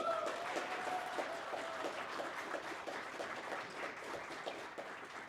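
An audience at a convention panel claps continuously at moderate volume, a steady wash of many hands that fades slightly toward the end.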